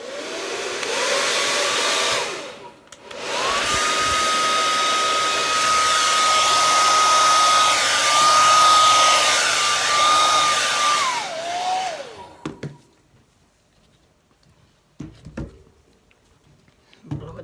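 A hair dryer blows steadily on acrylic paint in a Dutch pour, a loud close whooshing drone with a pause near the start, then cutting off and leaving quiet with a few faint knocks.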